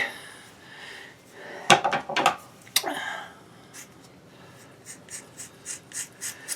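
Scissors snip through hair during a home haircut, a cluster of sharp close cuts in the middle followed by softer, evenly spaced snips, with no talking.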